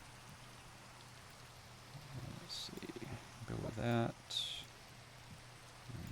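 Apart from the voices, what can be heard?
rain falling in the video game Minecraft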